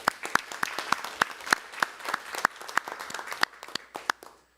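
Scattered applause at a Korean political commentators' debate forum on electoral law reform, a modest group of distinct, sharp claps at close to medium range, fairly quiet, tapering off after a few seconds.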